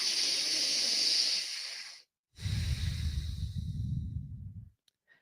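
Deep, forceful breaths during a seated breathwork exercise: a long hissing inhale through the nose, a brief pause, then a rougher, lower exhale, close and loud with no talking.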